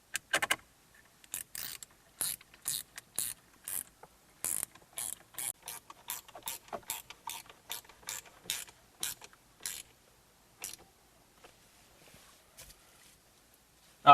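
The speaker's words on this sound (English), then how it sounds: "we're going to slide this back in place. And we're going to put our screws in." Screws being driven in while a VW RNS 315 navigation radio is slid back into the dash: a series of sharp, close ratcheting clicks in uneven bursts that thin out toward the end, with near silence between them.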